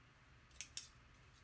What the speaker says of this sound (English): So I'm just gonna snip it every 2 inches or so.